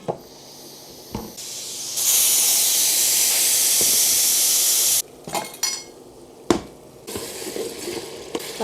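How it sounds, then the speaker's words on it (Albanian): Onion and meat steaming under a lid in a pot for cabbage stew, a loud steady hiss that lasts a few seconds, framed by clinks of the lid and pot, close up with no voices. "E myll pak me kapak, se zbutet më mirë qepa dhe mishi, në avull."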